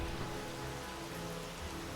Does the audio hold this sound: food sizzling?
no